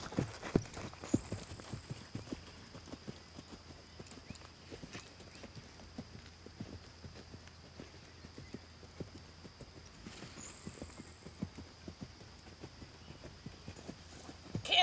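A horse canters with quick, rhythmic hoof beats on soft footing, heard at a moderate distance and fairly faint against a quiet outdoor background, with no one talking.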